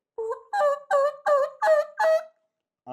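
Turkey yelps made by mouth on a diaphragm reed with the jaw dropped in an O shape: six clear, close, evenly spaced notes, rising then falling in a rhythmic run, alone with no talk.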